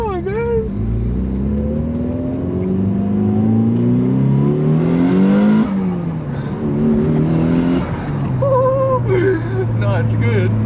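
A Mitsubishi Evo 7 fitted with a screamer pipe exhaust revs hard and loud, rising and falling through several long pulls with a raspy, droning tone, close by, while people talk over it.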